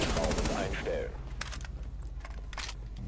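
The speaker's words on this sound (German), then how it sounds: "da ist er noch, ich schieße noch ab" Gunfire in the video game Rainbow Six Siege: rapid bursts of close, sharp shots layered over game ambience, with a voice talking over the start.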